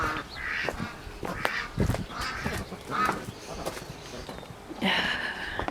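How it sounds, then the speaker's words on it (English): A broody duck quacks on her own in a backyard, giving a series of separate, nasal calls at an uneven rhythm, close and moderately loud, with a longer call near the end. "Quacking by herself."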